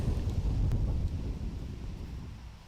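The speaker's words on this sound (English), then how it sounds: "Look at the wind." Strong outdoor wind gusting across a disc golf course during a professional tournament round in Des Moines, a steady low roar buffeting the microphone, loudest at first then easing slightly.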